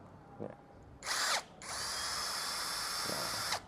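A cordless drill, model SCD 110, whirs in two bursts as its chuck spins loose, a short spin then a longer steady high-pitched run, close up with faint clicks between.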